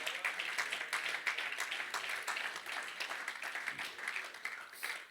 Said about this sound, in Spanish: Denles ofrenda de palmas al Señor, mis hermanos